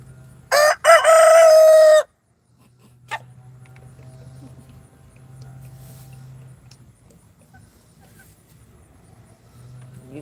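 A neighbor's rooster gives one loud, drawn-out crow near the start, then a quiet stretch of low hum with faint, scattered background sounds.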